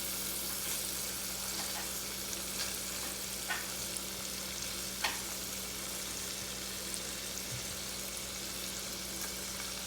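Fish for tacos frying steadily in a pan, a continuous soft sizzle with a few faint clicks of a utensil, no voices.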